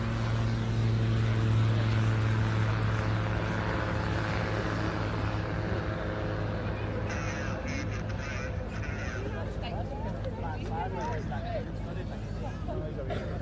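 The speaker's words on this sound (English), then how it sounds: "now pitching the aircraft around" A small light aircraft flies aerobatic pitching maneuvers at an air show, its engine drone steady and distant throughout, heard under a commentator talking continuously over it.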